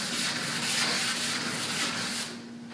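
Steady rhythmic rubbing of a sanding block over wet fiberglass, close up, repeated strokes with a faint hum underneath, stopping near the end.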